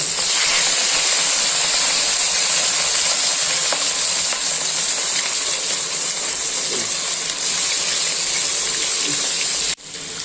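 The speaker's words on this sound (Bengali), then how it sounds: "মাছটা কড়াইয়ের মধ্যে দিয়ে দিয়েছি। এবার একটু হালকা করে এটাকে ভেজে দেব।" A large piece of rohu fish fries in oil in a wok, giving a loud, continuous hiss and sizzle that holds steady throughout with only faint kitchen clatter and no talk.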